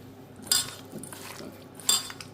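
Ingredients for a raw brinjal tamarind stew, with salt and turmeric added, mixed in a bowl, giving soft scraping with two sharp utensil clinks against the bowl, close and brief, with no voice.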